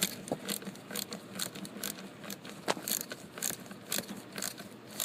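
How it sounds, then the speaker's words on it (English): Ratchet clicking in quick uneven bursts while airbag bolts on a Ford Focus steering wheel are tightened until snug, the close, crisp ticks repeating over several seconds with no talk. "And then you can tighten them down like this."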